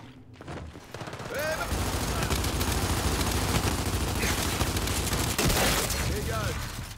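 Heavy gunfire in Gears 5 online multiplayer: loud, sustained automatic bursts rattle almost without pause for several seconds, with brief in-game tones layered over the shooting.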